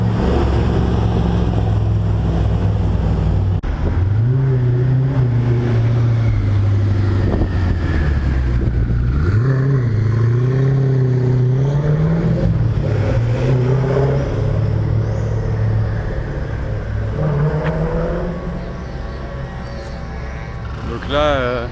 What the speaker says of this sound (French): Vieille Corvette.